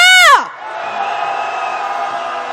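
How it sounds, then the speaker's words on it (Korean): At a candlelight impeachment protest march, a loud rising voice leads into a big crowd roar, then a sustained chorus of shouting and cheering from many people carries on steadily. "탄핵의 함성 질러보겠습니다."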